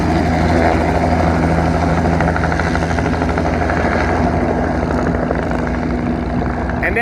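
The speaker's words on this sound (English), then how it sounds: "And as the helicopter lifts out of ground effect" A helicopter lifting off, with a loud, steady engine roar and rotor thrum filling the clip close by, a dense continuous drone with no break.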